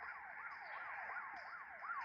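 A wailing police siren sweeps up and down repeatedly in a steady rhythm, faint and distant, within a game with no talk over it.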